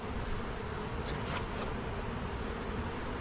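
Wild honey bees crawling over a cut comb frame taken from a bee tree, giving a steady, close, broadband hum and buzz throughout, with a couple of brief louder passes near the middle.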